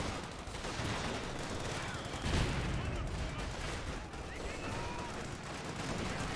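Grenadier gunfire in the World War II strategy game Company of Heroes 2 rattles on in a dense mix of shots and battle noise, with a louder burst midway, heard faintly under game sound.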